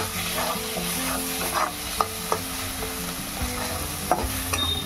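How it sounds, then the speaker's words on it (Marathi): Ridge gourd and coriander sizzle steadily in a pan while being stir-fried. A few light scrapes and taps of the spatula stand out above the continuous frying, close and clear. "आता आपण थोडी कोथिंबीर टाकू, एकदा परतून घेऊ आणि गॅस बंद करून घेऊ."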